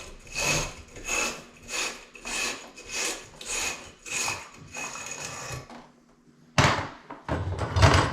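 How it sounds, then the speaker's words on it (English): A wire brush scrubs the inside of a pipe during an angle stop replacement, making about eight steady rhythmic rasping strokes, then a pause and a few harsher scrapes, close and loud. "Ream in your wire brush."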